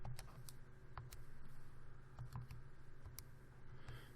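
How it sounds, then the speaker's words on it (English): Soft, quick clicking of keys as a math problem is typed into a calculator, irregular presses scattered across a few seconds, close and quiet with no talking. "I'm going to check it by typing the original problem just as it appears."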